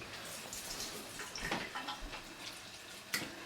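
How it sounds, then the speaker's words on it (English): Faint splashing and trickling as water is poured into hummus in a food processor, low and steady with no speech. "Add a little bit more water in there."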